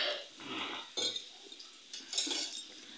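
A spoon stirs a bowl of salt, turmeric, ground coriander, ginger-garlic paste and red chili powder, giving soft scraping swishes broken by a few light clinks against the bowl, close and quiet.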